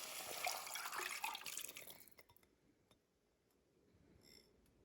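Tamarind water is poured from a container into cooked tomatoes for South Indian rasam. A brief steady pour is followed by a few faint, scattered drips in a quiet kitchen.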